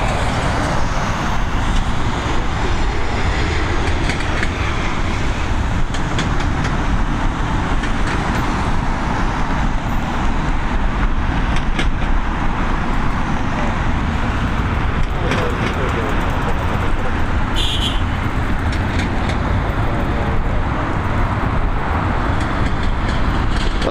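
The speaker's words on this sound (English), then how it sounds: "We got the first arrival of today, this Ryanair Boeing 737." A Ryanair Boeing 737 airliner arrives at Dublin Airport, heard as a steady, loud, broad roar that holds for the whole stretch without letting up.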